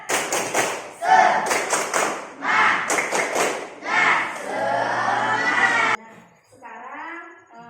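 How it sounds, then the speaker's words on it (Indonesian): A classroom of pupils performs a rhythmic spirit clap, tepuk semangat, with sharp patterned claps, thumps and chanting voices in bursts. The clapping stops as the group noise fades, and a single voice speaks at the end. "ayo bersama-sama kita tepuk semangat"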